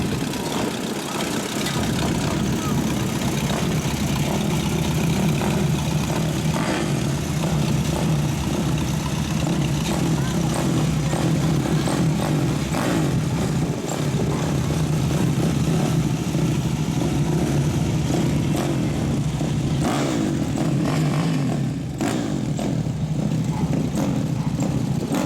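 A tractor engine runs steadily at an outdoor town festival, a loud continuous low rumble that holds for the whole stretch with slight shifts in tone and no voices.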